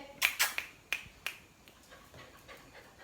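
A dog pants in quick, sharp breaths close by, a handful of distinct puffs that fade into softer, faint breathing indoors.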